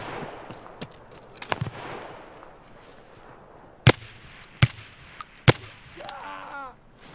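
Sharp sniper rifle shots in Escape from Tarkov, three loud cracks spaced about a second apart after a stretch of quiet ambient noise, with a few fainter clicks in between.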